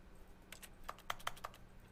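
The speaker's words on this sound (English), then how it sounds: "that's a really nice keyboard sound" Quick bursts of keystrokes on a computer keyboard, a short run of crisp, close clicks over a quiet background hum.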